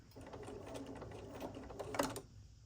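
A home sewing machine stitches slowly through a pillow finish, with soft, even mechanical ticking and whirring, close and fairly quiet, a brief louder burst near the end and no talking.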